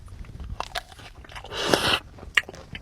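A crisp bite into a Granny Smith apple pastry with a white chocolate shell: a crunchy crack followed by a few soft chewing sounds, close up and quiet, with no talking.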